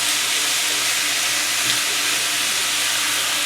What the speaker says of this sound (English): Now we're going to drop our meat in there, and we want to cook this until it's brown.